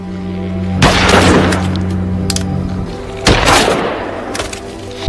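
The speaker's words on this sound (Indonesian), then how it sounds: "Akhirnya Sergei menembak semua kepala zombie itu karena ia merasa kasihan melihatnya." Gunshots fired at zombie heads in a zombie film, two sharp loud bursts with crackling debris, spaced a few seconds apart over a low background hum.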